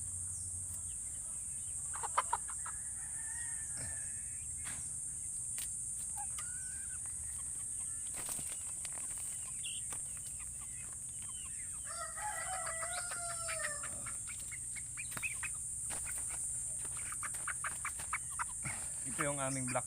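Free-range black Australorp and Rhode Island Red hens clucking and calling in short bursts around a yard, with an occasional crow, over a steady high insect-like hiss and faint talk in the background.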